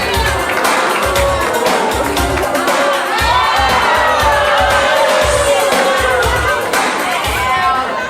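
A talk show studio audience boos and jeers a teenage guest, a loud, sustained crowd roar of shouting voices with rhythmic chant-like pulses running throughout.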